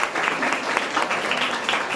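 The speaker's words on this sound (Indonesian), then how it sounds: "berikan tepuk tangannya ya" At a school student council candidate debate, an audience gives a short burst of moderate applause, a fairly even patter of many hands at middle distance.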